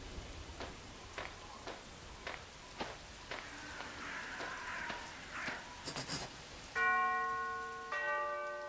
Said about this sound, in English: I'd better ring the bell.